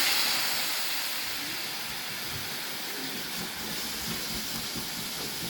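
Water poured into a hot pan of butter, carrot, black pepper, salt and green chilli for noodles makes a loud, steady broadband sizzle that eases slightly and holds on without pause.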